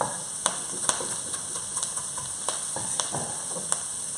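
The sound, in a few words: food frying in a pan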